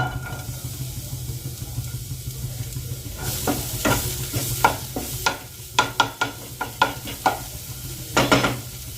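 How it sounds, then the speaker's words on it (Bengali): Chopped medium onion dropped into well-heated oil in a home kitchen pan for Mughlai paratha, sizzling steadily with a run of sharp stirring scrapes and clacks toward the end, close and moderately loud with no talk. "একটা মাঝারি সাইজের পেঁয়াজ ছোট সাইজ করে কুচি করে রেখেছি দিয়ে দিচ্ছি"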